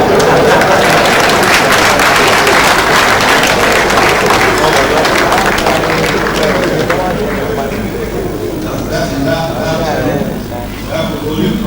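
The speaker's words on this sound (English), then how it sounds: "A big round of applause was given." Audience applause at a legal access-to-justice event, loud, dense clapping from a crowd that keeps going and fades slightly toward the end, with speech mixed in.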